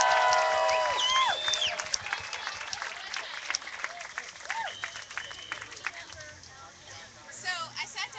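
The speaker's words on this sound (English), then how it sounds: "so please give her a round of applause" Outdoor crowd at an Orlando anti-Monsanto rally applauds a local organic farmer speaker, with claps and scattered whistles and cheers fading over several seconds.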